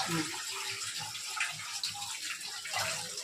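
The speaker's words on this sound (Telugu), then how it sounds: "చేపలు కడిగి శుభ్రం చేస్తాను" Water runs continuously from a tap while fish are washed. The splashing hiss is steady and close, with faint handling sounds underneath.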